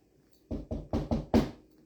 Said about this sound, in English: began knocking on the door